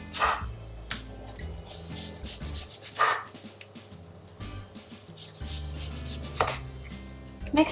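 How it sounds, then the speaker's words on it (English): A knife cuts through an orange into thin slices on a board: a few crisp, separate cutting strokes spaced seconds apart, close by, over a steady low background hum. "we are going to cut the orange into thin slices like this"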